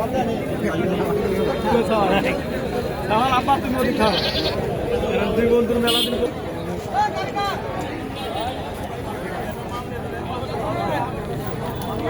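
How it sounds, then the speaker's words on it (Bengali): Goats bleat repeatedly amid a busy crowd of chattering voices at a livestock market during Eid, with people talking nearby throughout. "যে ছাগলটি দেখতে পাচ্ছেন"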